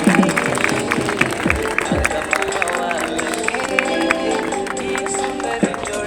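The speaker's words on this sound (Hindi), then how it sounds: "जोरदार ताली बजा दीजिए।" Wedding guests clapping and cheering for the newly married couple at an arranged marriage ceremony, a dense steady patter of applause with crowd voices throughout.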